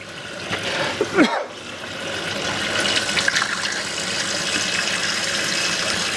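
Water rushes continuously through a fruit and vegetable washer, a steady gushing flow with a brief gurgling dip, heard alone.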